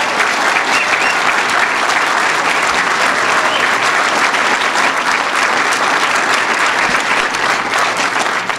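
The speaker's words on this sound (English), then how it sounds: "Let's give him a round of applause." Sustained, loud applause from a crowd at a political event in Cheektowaga, thick continuous clapping holding steady for several seconds with no talk over it.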